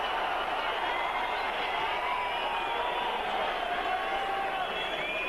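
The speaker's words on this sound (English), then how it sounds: "as you can hear from the crowd" A large boxing arena crowd roars steadily with cheers and whoops during a Wladimir Klitschko vs Chris Byrd fight, a continuous dense wash of noise heard from within the venue.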